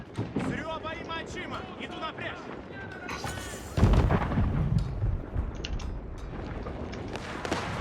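Cannoneer units in an Age of Empires IV battle fire their cannons, with a heavy booming blast and rumble partway through, all under fast, excited commentary.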